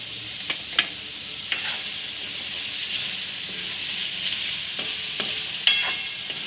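Shakkar teti (muskmelon) curry with turmeric and salt frying in hot oil makes a continuous, even hiss. A few sharp clicks of a stirring spoon break through now and then.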